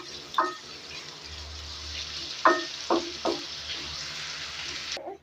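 Onions sizzle in a pan as they brown for chicken kaleji, a soft steady frying hiss broken by several sharp spoon clicks and scrapes close by.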